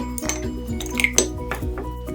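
A spoon clinks lightly and repeatedly against a bowl as yeast and sugar are stirred into warm water, giving a quick irregular rhythm of close, bright taps.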